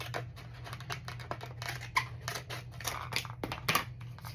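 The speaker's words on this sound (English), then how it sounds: "let me just cut this down really quick so I can get more when I pass this through" Scissors snip through scrap paper left over from die-cutting a Santa boot mini album, a steady run of close, crisp cuts and rustles with no talking.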